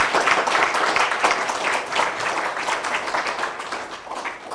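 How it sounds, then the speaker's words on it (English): Conference closing at the Internet Governance Forum 2022, where a large audience breaks into sustained applause: a loud, even wash of many hands clapping that continues throughout, without speech. "give yourselves a huge round of applause for what we have achieved today"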